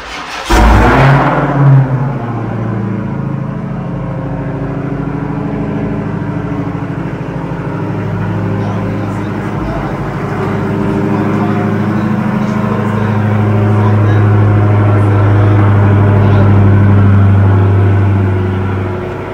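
A Dodge Challenger Hellcat supercharged V8 idles with a deep, rumbling exhaust burble after a sharp startup roar, swelling louder into a heavy drone toward the end.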